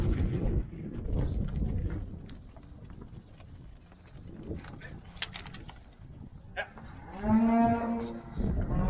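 Cattle moo in an outdoor setting, with a loud, drawn-out low moo near the end over scattered rustling and movement.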